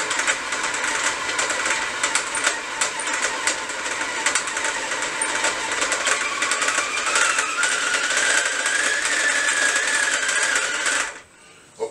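Electric mixer beating shortbread dough in a bowl, a steady loud whirring drone that runs continuously for about eleven seconds, rising slightly in pitch partway through, then cuts off abruptly at the end.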